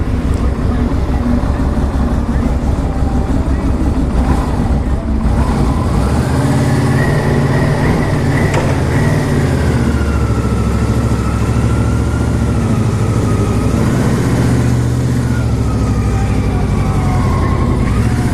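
A carbureted 2000 Yamaha Venture LE motorcycle engine idles steadily and loudly up close, a low continuous rumble with a faint rising whine partway through.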